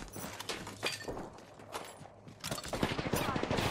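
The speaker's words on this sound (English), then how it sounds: "oh, gunshots!" Gunfire in the Apex Legends battle-royale shooter, with sharp bursts of shots and some automatic fire in clusters over footsteps and game noise, and a voice talking nearby.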